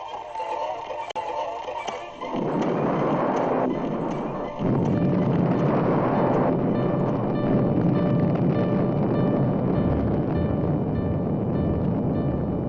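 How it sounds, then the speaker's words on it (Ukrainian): The demolition explosion of the Dnipro hydroelectric dam in 1941: a deep, loud explosive roar builds in two surges and keeps rumbling heavily without stopping. "пролунав оглушливий вибух"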